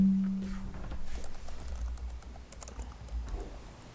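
Keys of a computer keyboard tapped in irregular bursts during a planning board meeting, fairly faint over a low room hum, with no one talking.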